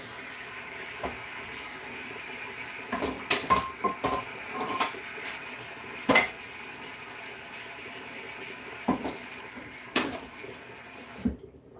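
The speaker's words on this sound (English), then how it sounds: "Oh wait, let me do the frying pan." Cookware clattering on a home kitchen stove while Jamaican brown stew chicken and fried plantain are prepared, with several sharp knocks and scrapes over a steady background hiss.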